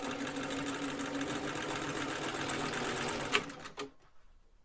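A sewing machine with a narrow hem foot runs in a steady, close whirring hum for a few seconds, then stops and starts briefly before going quiet.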